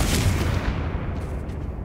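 A Confringo fire spell from Hogwarts Legacy detonates as a short, loud blast whose crackling roar fades quickly with faint sputtering after it.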